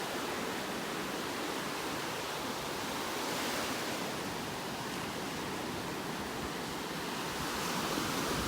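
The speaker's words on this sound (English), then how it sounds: "Loving the sounds of these waves this morning." A constant wash of surf fills the air on a beach in North Naples, Florida, broad and even, with the slow swell of waves barely rising and falling.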